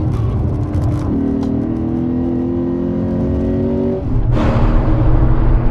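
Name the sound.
Lexus GS F accelerating hard on race track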